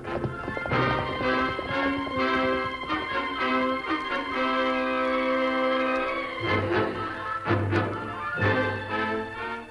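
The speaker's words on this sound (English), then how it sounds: "e Lone Ranger and his Indian companion Tonto rode into a draw and halted their horses as the sun slipped beneath the rugged hills" Horses' hooves clip-clop at a riding pace in an old Lone Ranger western radio drama sound effect, rhythmic and fairly close, set against orchestral music with a horse whinnying.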